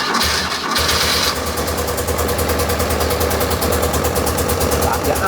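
A freshly rebuilt BMW R100RT motorcycle engine catches and runs unevenly on only one cylinder, a loud, close, steady pulsing chug that continues without stopping.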